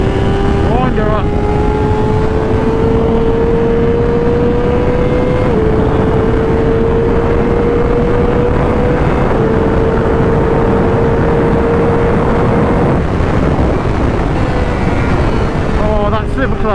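A 2024 Honda CBR600RR motorcycle engine revs hard and loud, its pitch climbing steadily through gears with brief dips at shifts, a dense roaring whine with wind rush running throughout.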